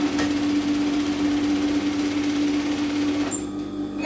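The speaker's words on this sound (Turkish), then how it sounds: "Ben artık makinenin sesinden bile anlayabiliyorum düzgün dikmediğini." A domestic sewing machine stitching with a thread-gathering problem under the fabric, running as a steady close mechanical whir with a constant hum, the motor stopping abruptly near the end.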